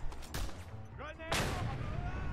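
Grenade blasts in the Just Cause 2 video game: two booming explosions about a second apart, the second followed by a sustained rumbling roar, close and loud.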